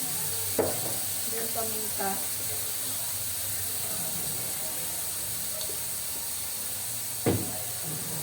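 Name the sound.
sautéing tomatoes with fish sauce (patis) in a pan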